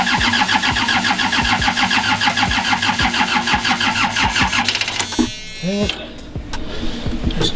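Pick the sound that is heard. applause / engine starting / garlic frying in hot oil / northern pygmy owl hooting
engine starting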